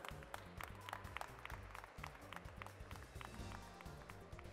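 An audience at an awards ceremony for breeding groups applauds, a faint, distant patter of many hands clapping steadily with light crowd murmur behind.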